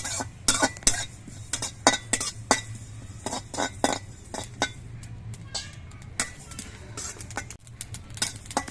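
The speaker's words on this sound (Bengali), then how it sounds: "এরকম দেওয়ার সঙ্গে সঙ্গে পটপট করে ফুটছে" Black cumin seeds dry-roasting in a hot, dry wok, giving rapid sharp crackles and pops in irregular bursts over a low steady hum, close and fairly loud, with faint clinks of a utensil.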